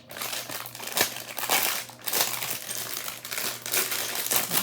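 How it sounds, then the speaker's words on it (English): A small resealable plastic bag from a block building set crinkles and rustles in bursts as it is handled, close and fairly loud, with no talking. "this is like a nice little plastic bag that you can open and close"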